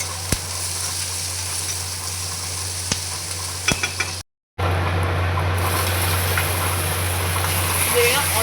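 Onions are stirred and fried in a pan until golden brown for egg curry: a loud, continuous close sizzle with occasional sharp clicks of the spoon and one brief dropout.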